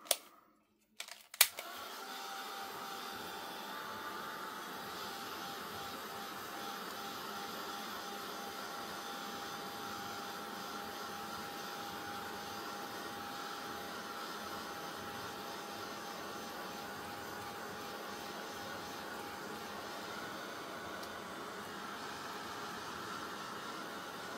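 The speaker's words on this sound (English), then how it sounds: "I'm going to heat gun it a little bit." A heat gun blows on a stamped paper card, starting after a couple of handling clicks and then holding a steady, even airy whoosh close by for the rest of the clip.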